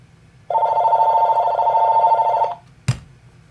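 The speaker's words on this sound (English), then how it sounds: "sorry about the phone too." A telephone rings in one long continuous two-second burst, clear and close, followed by a single sharp click or knock in a quiet room during a severe weather update.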